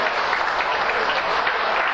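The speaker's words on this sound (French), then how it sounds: "ces cuisiniers, de les applaudir si vous le voulez bien" A crowd at a dairy cooperative's centenary celebration applauds the cooks, brief and dense clapping that stays steady and fairly close throughout.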